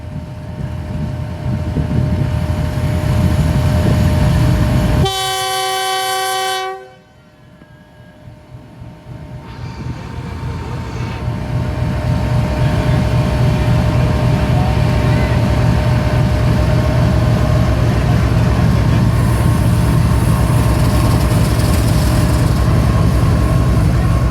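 A loud, steady rumble of a moving train with wind noise near Landhi railway station in Karachi, broken by a brief two-tone horn blast, then the rumble builds again.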